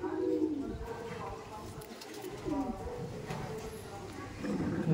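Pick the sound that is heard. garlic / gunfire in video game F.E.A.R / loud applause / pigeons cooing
pigeons cooing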